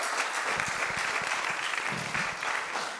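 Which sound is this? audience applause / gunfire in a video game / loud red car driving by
audience applause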